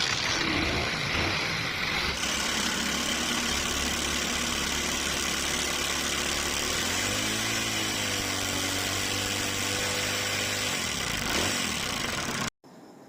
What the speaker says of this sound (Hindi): और बाइक को स्टार्ट करते हैं।